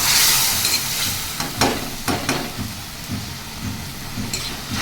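Spice paste for a crab pepper fry sizzles loudly in a hot pan, with a burst of hiss at the start that settles into steady frying, broken by several sharp scrapes and stirring strokes of a spoon against the pan.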